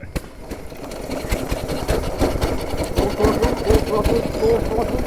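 A 109-year-old TT racing motorcycle engine opened to full throttle, a loud, rapid, rattling mechanical beat that builds and runs continuously, with a voice talking over it at the start.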